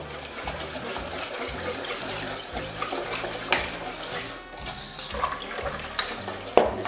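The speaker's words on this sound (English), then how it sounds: "Gonna whisk it up real good." A bread pudding mixture for New Orleans bread pudding is whisked in a large bowl, a steady wet churning and sloshing that runs throughout at moderate loudness, with a few sharper clinks near the end.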